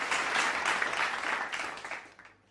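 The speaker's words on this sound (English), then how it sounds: "another round of applause for our challenge partners as well" Audience applause at a sustainability hackathon finale in Pune rings out as a dense burst of many hands, loud at first and then tapering off toward the end.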